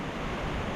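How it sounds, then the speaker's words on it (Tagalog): Strong wind gusting across a papaya and avocado farm, a steady broadband roar buffeting the microphone throughout a brief moment, with no voices. "Malakas ang hangin."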